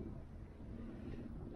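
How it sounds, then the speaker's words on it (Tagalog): Steady, loud wind buffeting the microphone with a low rumbling roar, no voices. "Lakas pa yung hangin."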